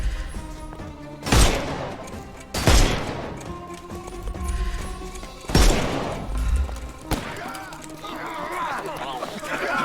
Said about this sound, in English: And shoot him.